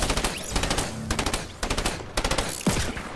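Gunfire in a shooting video game: loud, close bursts of rapid automatic shots come in repeated volleys with short pauses between them, then a final heavier burst.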